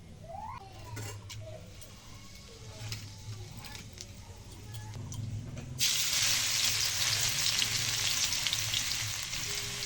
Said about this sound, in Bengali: এবার রসুন আর শুকনো লঙ্কা একটু ভাজা ভাজা করে নেওয়া হচ্ছে